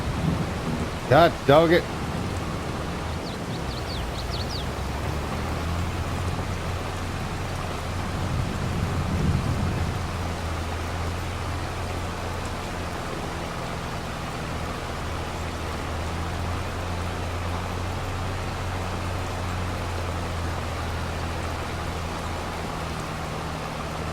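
Steady rain falls on a farm while thunder rumbles low, with one longer roll partway through. A man briefly mutters a few words near the start.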